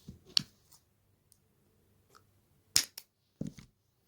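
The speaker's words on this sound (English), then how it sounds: "Now cut the extra wire." Small cutters snip excess wire while making a pearl earring, a few crisp, close clicks spaced apart in a quiet room.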